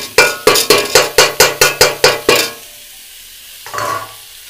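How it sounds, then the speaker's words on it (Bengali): Bitter gourd sautéed with ginger paste in a pan: about ten quick, sharp knocks of a spatula against the pan in a steady rhythm, then a pause and one softer scrape. Close by, with no talking. "এবার আমি আদা বাটা দিয়ে দিলাম"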